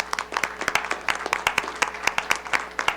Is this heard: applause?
yes